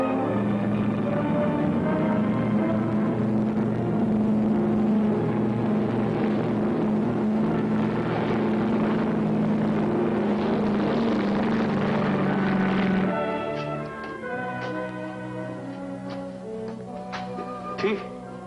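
Propeller aircraft engines of an Air Cathay plane start up with a loud, steady droning roar that holds for about thirteen seconds, then drops to a quieter idle rumble with scattered light clicks.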